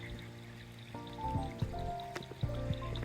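Water flowing steadily from a roadside waterfall on a mountain in Sri Lanka, a continuous splashing rush with scattered drips, close by, with other faint tonal background sounds.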